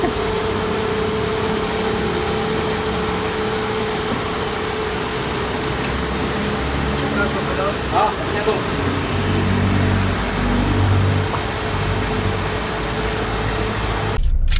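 A Hyundai Accent engine, just back from a top overhaul that fixed a broken intake camshaft, runs at a steady idle with a constant low drone that continues through the whole stretch.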